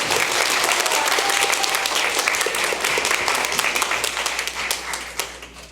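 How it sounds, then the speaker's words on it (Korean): Audience applause at a church wind ensemble concert, a dense sustained clapping from a crowd that fills the room and holds steady for several seconds before thinning out slightly at the end. "박수 부탁드립니다"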